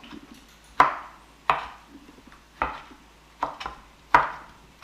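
Canned stewed tomatoes chopped with a knife on a board: five sharp, separate chops spaced roughly a second apart, close and clear with soft squishy tails.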